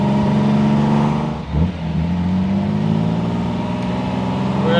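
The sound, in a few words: 1957 AC Ace Bristol sports car engine driving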